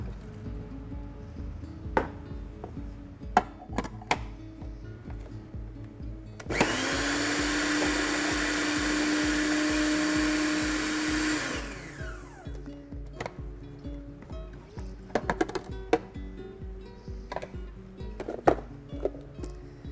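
A food processor whirs steadily for about five seconds, blending a jerk marinade of cinnamon, soy sauce and white wine vinegar, set between scattered kitchen knocks and clatter before and after.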